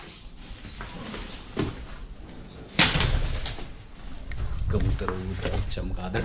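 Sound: pigeons cooing inside old fort

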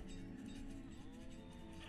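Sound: cows mooing in the video game Banished

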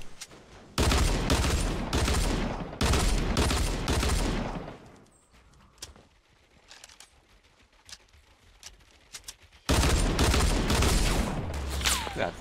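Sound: pistol gunfire in the Fortnite video game

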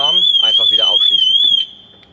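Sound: vehicle alarm system going off

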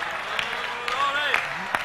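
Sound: congregation clapping hands

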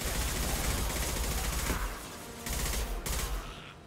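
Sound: gunfire from enemies in the video game Mass Effect 2

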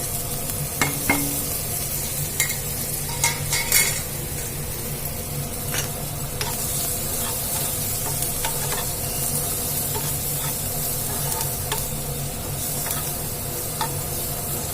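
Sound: frying onions with pepper powder, chaat masala and spring onions

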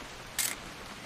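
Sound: camera shutter taking a photo in the video game What Remains of Edith Finch

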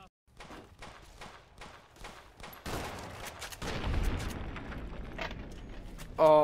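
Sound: Mauser gunfire in Fallout: New Vegas video game

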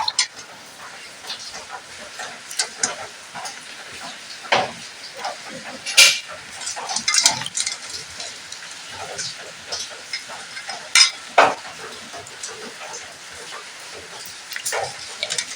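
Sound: washing snails with water in a pot

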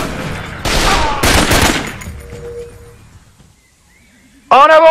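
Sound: gunfire in video game Raven Squad

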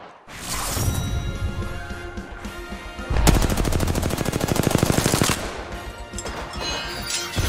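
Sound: gunfire in the video game Apex Legends

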